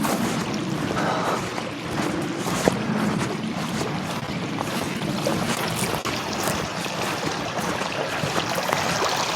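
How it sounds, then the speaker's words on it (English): A river in the Glenshesk countryside near Ballycastle in Northern Ireland rushes steadily as a constant broadband wash of flowing water, with no voices. "Oh, this river's beautiful."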